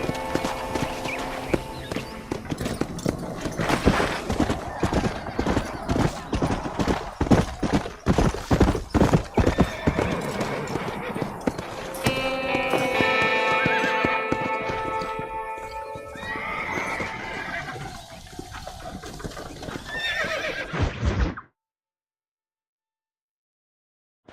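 Horses in the video game Red Dead Redemption, loud rapid clip-clopping hooves and repeated neighs and whinnies, busy and close before abruptly cutting to silence.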